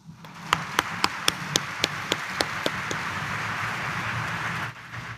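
A church congregation clapping during a Saturday Mass at Quiapo Church, a run of about ten evenly spaced claps followed by a steady crowd murmur that cuts off near the end.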